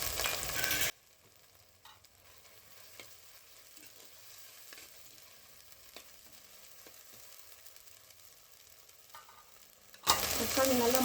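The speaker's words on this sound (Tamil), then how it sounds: "சேர்த்து நல்லா வதக்கிக்கலாம்." Soft, steady sizzling of chopped tomatoes sautéing in a pan for chicken gravy, with light stirring scrapes, quiet throughout and bracketed by louder bursts at the start and end.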